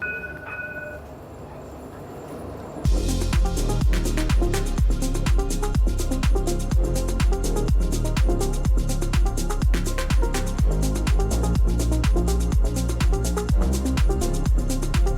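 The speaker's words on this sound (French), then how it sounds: "Bon, le tram est juste là." Lyon tram at a stop, a quiet rumble that gives way suddenly to a loud, steady run of rapid rhythmic clacking, close and continuous for the rest of the clip.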